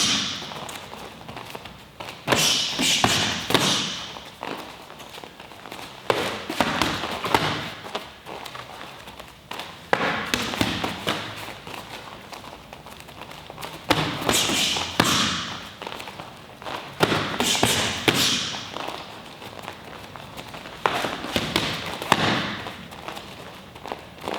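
Kickboxing teep kicks and counters landing in repeated bursts, sharp thuds and slaps scattered in clusters over a roomy background.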